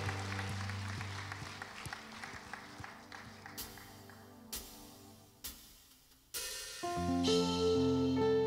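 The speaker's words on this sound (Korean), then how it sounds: "우리의 왕이신 하나님께 다시 한번 감사의 박수 올려드리겠습니다" Congregation applauding during a Sunday worship service in a church, a steady patter of clapping blended with live worship music that grows louder and fuller toward the end.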